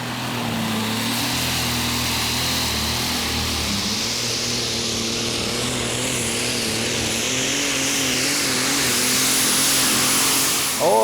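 Mad Max, a pulling tractor competing at the 2016 Eurocup tractor pulling finals in Brande, Denmark, runs with a loud, sustained engine drone that wavers in pitch, steady throughout and rising slightly near the end.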